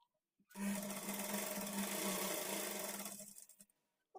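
A sewing machine hums steadily for about three seconds while stitching a blouse seam along a marked line, then winds down and falls quiet, with a faint click at the end.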